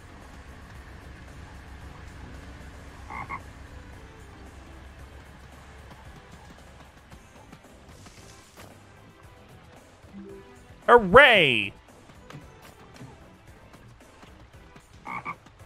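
A cartoon frog croaks in the video game Moving Out, giving one loud, wobbling croak burst near the end over soft game background sounds, with a player's voice cheering briefly.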